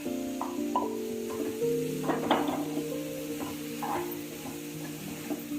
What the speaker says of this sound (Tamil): பச்சை பட்டாணி லைட்டா ஃப்ரை ஆனது உடனே நம்ம காலிஃப்ளவரை ஆட் பண்றோம்